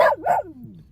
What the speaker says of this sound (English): these people got dogs in their vehicles. Can you hear that dog?